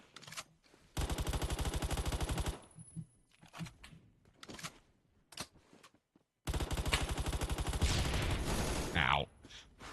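Rapid automatic bursts from an Uzi submachine gun in the video game Phantom Forces, two long loud strings of shots separated by quieter clicks and handling noises.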